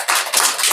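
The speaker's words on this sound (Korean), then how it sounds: "동의하면 박수 한번 쳐주세요" An audience bursting into brief, dense applause at a presentation, many hands clapping together in a loud, short wash of sound.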